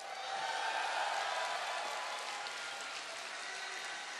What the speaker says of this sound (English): let's see if the MVP fans can answer with a louder cheer